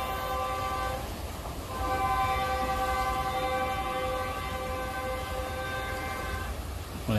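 An express train rumbles past close by after leaving Tebing Tinggi station, a loud sustained horn blaring over the steady roar of wheels on rails.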